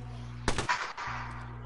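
A short burst of gunfire sounds in the battle royale video game Apex Legends, two or three quick cracks over a steady background hum. There is no talk.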